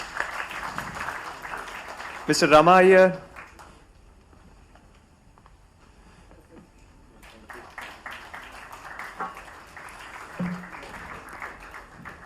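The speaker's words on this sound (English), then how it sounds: "Can we have a round of applause?" Brief burst of audience clapping for panel speakers at an IIT Hyderabad talk, lasting about a second amid a speaker's voice over a microphone, followed by quieter room sound and more talking.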